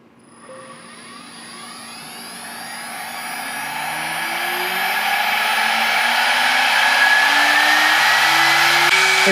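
An old CNC mill spindle running at 24,000 RPM, with a cooling fan on its far end, gives a loud, steady high-pitched whine with an airy roar that swells and climbs in pitch as it spins up.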